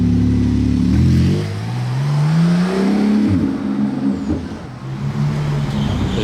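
Modified, heavily tuned car engine revving hard, loud and close, with rising and falling revs, rougher and louder than a Porsche.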